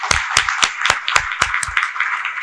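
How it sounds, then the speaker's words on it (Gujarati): An audience claps for a person at a talk, giving about a dozen loud, evenly spaced claps in quick succession. "એને જોરદાર તાળીથી વધાવો."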